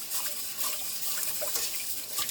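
Hand stirring rice through rinsing water to loosen the starch, giving a continuous close wet swishing and sloshing with small splashy trickles and no talking.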